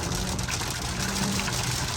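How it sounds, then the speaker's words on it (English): Steady rain and road noise inside an INFINITI Q50 being driven in wet weather, a constant broadband wash with low engine rumble underneath, no voices. "it seems like it's gonna stop fucking raining"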